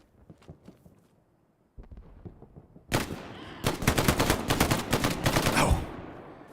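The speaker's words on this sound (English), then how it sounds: "Heard the FG-42 go off." FG-42 rifle fire in a World War II battlegrounds video game: a few scattered distant shots, then loud close rapid bursts of automatic fire over several seconds.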